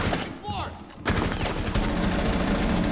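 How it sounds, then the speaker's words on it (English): Gunfire in the shooting game Operation Steel Wave, a faint shot early on and then a loud, dense burst of rapid automatic fire that runs without a break to the end. "So that time I shot him in the chest."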